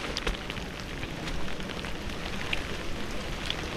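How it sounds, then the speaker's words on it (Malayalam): Steady rain patters down in a dense, even hiss on a trek to Harihar Fort, with scattered heavier drops striking a surface nearby. "മഴ പെയ്യുന്നുണ്ട്"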